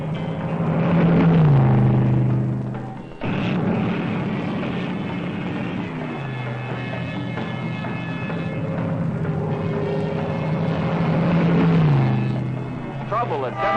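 Mercury Comet cars circling Daytona in a 1964 endurance run, engines droning with rising and falling tones as they pass, a steady rumble throughout, with a narrator talking over much of it.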